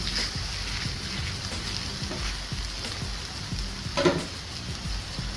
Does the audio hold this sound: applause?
no